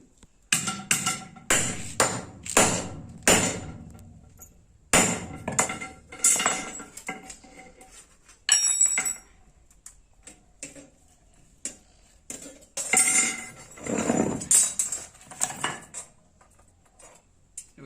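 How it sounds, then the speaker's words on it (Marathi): Cutting material to make a crab trap, a series of sharp clipping and clinking strikes in irregular bursts with quiet gaps between, close and distinct without talk. "तर आता थोडी कट करून घेतो."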